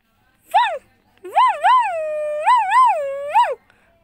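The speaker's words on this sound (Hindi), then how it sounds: "तभी अचानक दूर से आता हुआ एक कुत्ता मिलता है" Dog howling, one short rising yelp followed by a long wavering howl with several bumps in pitch, loud and close against near silence.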